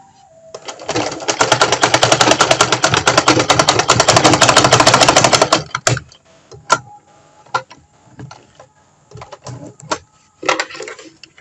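Sewing machine stitching a seam on a long flared skirt, a fast loud rattling run of about five seconds, then a few short bursts and clicks.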